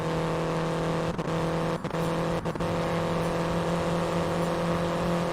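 A steady engine drone of an IndyCar in the Indianapolis 500 racing video game fills the clip, with a few brief dips as another car sweeps past around the outside nearby; no talking.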